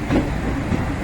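Steady rumble of a passenger train running at Kalyan Junction on a Panvel to Jabalpur journey, continuous rolling noise from inside the carriage with no distinct clacks standing out.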